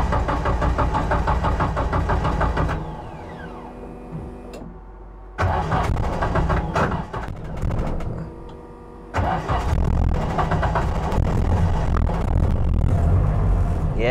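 A Toyota AE86 fitted with a KA24 engine cranks on a cold day and catches after a pause, then runs loud and rough near the mic, settling into a steady idle.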